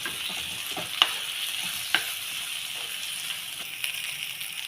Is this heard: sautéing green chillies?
yes